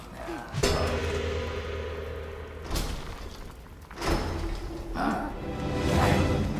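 Several resonant metallic strikes, a gong in Hollow Knight: Silksong, ring out one after another with gaps of a second or so. Each hit decays under a steady bed of game music and ambience.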